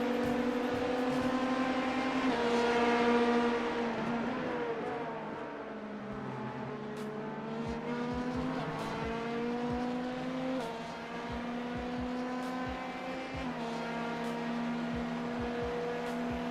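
A race car's engine drones loudly and steadily at Watkins Glen, pitch sweeping up and down through gear changes as cars pass close by, with no talking.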